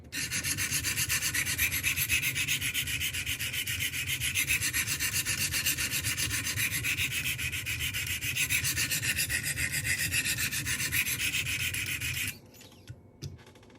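Glidstrike knife blade sharpened on a Wicked Edge guided sharpening system, with fast, steady, rhythmic rasping strokes of the stones on steel, close and continuous for about twelve seconds before stopping, followed by a few faint clicks.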